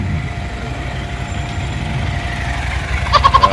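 A motorcycle engine idles and putters at low revs during slow-speed lean-out maneuvering practice, a steady near rumble that grows into sharper pulsing revs toward the end.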